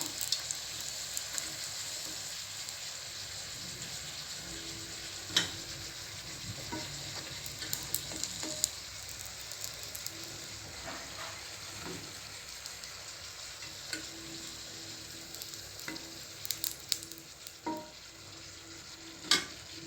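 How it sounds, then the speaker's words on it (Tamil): Raw plantain slices frying in oil in a pan: a steady broad sizzle throughout, with scattered sharper crackles and pops and occasional light utensil taps, fairly close and with no talking. "இப்போ இதே மாதிரி மீதி உள்ள வாழைக்காயெல்லாம் ஃப்ரை பண்ணி எடுத்துகிட்டு வந்துக்கிறேன்."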